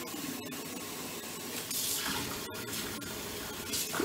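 Cold water running from a kitchen tap into a sink, a continuous close splashing rush with small surges and brief interruptions as hands move under the stream.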